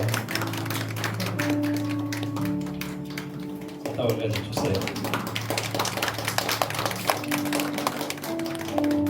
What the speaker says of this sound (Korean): 하나님 앞에 영광의 박수 올려드리기 바랍니다